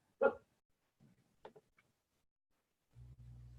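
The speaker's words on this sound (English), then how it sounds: "That's my dog wanting to play." A pet dog vocalizes in a quiet room, giving one loud bark followed by a few softer yips and whimpers spread over several seconds. A low steady hum comes in at the end.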